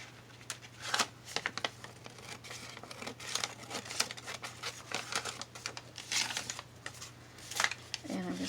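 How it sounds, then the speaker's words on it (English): Scissors snipping through paper while crafting a spring junk journal, with crinkling and rustling of sheets mixed in; close, irregular crisp cuts over a steady low hum. "I'm going to go ahead and cut some of this paper out."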